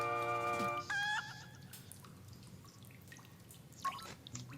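A blue bird in Zelda: Link's Awakening sounds a short chiptune jingle of stacked square-wave tones, then a brief chirping call a few seconds later, moderately loud over faint game ambience.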